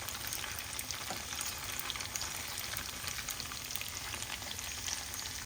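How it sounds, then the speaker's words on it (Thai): Tofu sizzles and crackles in hot oil, a dense continuous frying hiss that stays close and steady throughout. "กลับด้านเต้าหู้ให้เหลืองสุกทุกมุมนะคะ กลับด้านไปมาให้เขาร้อนให้สุกทั่วเลยค่ะ"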